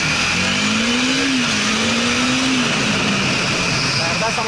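A Bajaj Dominar 400 motorcycle accelerates on the road, its engine note rising then holding steady under loud, constant wind rush, close and continuous throughout.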